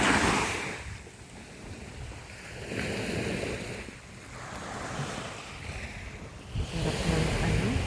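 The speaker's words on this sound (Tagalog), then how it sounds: "Hear the sound of the waves." Ocean waves roll and wash onto a beach at Caramoan, Camarines Sur, a steady broadband surge that swells and eases over several seconds, with wind buffeting the microphone.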